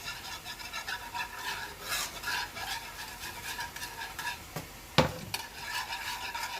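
A spoon stirs béchamel cream sauce made with milk in a pan, giving soft scraping and swishing strokes with a faint sizzle beneath and a sharper clink near the end.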